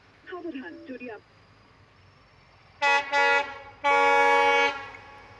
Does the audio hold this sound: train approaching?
yes